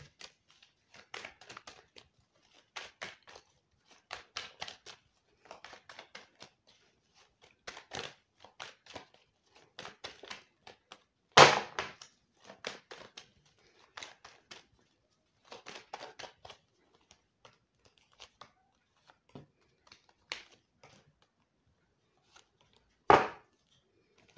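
Tarot cards being shuffled close up, a long run of quiet, irregular papery riffles and soft slaps with short pauses between bursts and a couple of sharper knocks, no talking over them.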